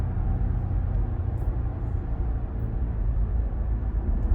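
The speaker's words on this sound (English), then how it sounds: "let's listen to the sound of the Q7" Audi Q7 55 TFSI e plug-in hybrid driving at night in sport mode, heard from inside the cabin as a steady low engine and road rumble, continuous and even throughout.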